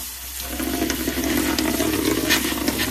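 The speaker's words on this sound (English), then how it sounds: "We're going to give it a rinse." Copper-plated lead bullets being rinsed with water into a bucket, a steady close splashing and running-water wash that continues without pause for the full length.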